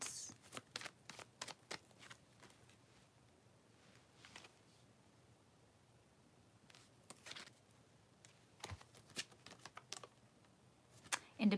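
Tarot cards are shuffled and drawn close by in a quiet room, short soft bursts of riffling and card clicks in irregular clusters separated by near silence.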